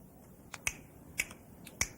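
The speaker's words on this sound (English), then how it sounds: "You can snap your fingers and make a noise." Crisp finger snaps on a children's television show, four sharp separate clicks spaced unevenly over a couple of seconds, close and clear against a quiet background.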